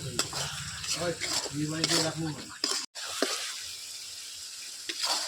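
Spice masala of turmeric, chilli powder and salt cooks in oil in a pan for capsicum chicken, a soft sizzle under scraping stirs and a few knocks, with a brief pause midway; close, no talking.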